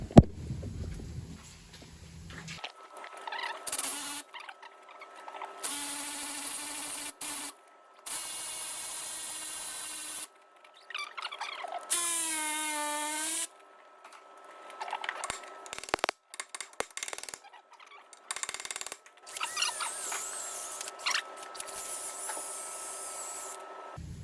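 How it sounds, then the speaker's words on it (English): Hand saw cutting through the old rear axle bush on a 2008–2013 Ford Fiesta MK7, rasping strokes in several bursts with short pauses between, close and fairly loud, no talking. "we'll just use the saw and just cut this other side out there"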